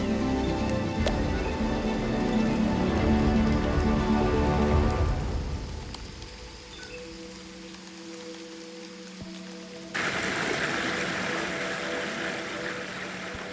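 Monsoon rain pours steadily over a Sri Lankan cloud forest, a dense hiss of drops on foliage that eases to a quieter patter before surging back loud and close.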